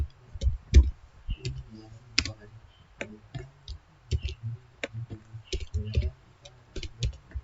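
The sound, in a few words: typing an IP address on a computer keyboard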